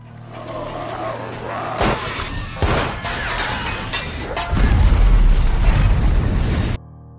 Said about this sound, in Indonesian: Ledakan yang terjadi membuat ruangan itu menjadi runtuh dan runtuhan itu mengenai Ben.